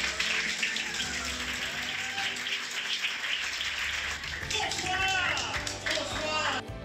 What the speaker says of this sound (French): Je vous invite donc à applaudir chaleureusement Jacques Hébert